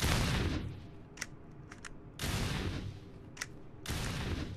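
Shotgun blasts in a video game, three loud broadband bursts each ringing out briefly, separated by quieter gaps with faint clicks.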